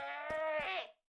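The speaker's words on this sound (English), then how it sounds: "Goat." A goat bleats once in the Minecraft video game: one drawn-out, wavering, nasal call about a second long, close and loud, with no voices around it.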